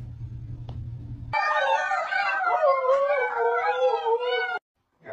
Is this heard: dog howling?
yes